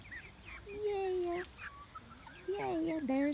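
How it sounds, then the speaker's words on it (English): A black rooster gives a few drawn-out clucks and croaks, in two separate bursts, fairly close and moderately quiet. "my one rooster, the black one."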